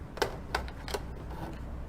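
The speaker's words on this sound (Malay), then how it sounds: "Okey, kita gunting dan kita pusing." Scissors cut through used material in three or four sharp, separate snips spaced a little apart, close and crisp over a quiet background.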